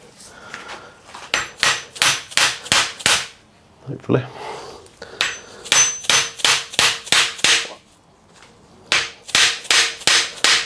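Metal hammer blows drive a star nut down into the steerer tube of a bicycle suspension fork, landing in fast bursts of five or six sharp, loud strikes separated by short pauses, with a brief murmured word between bursts.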